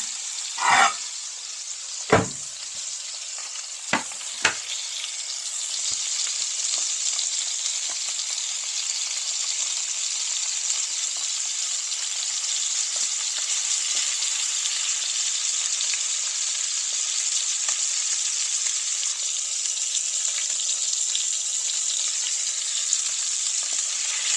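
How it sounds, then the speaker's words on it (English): Flounder stuffed with crab and brioche fries steadily in a pan, a constant close hiss of sizzling oil with a few sharp crackles and pops near the start, and no voices. "Now I'm going to end up frying it."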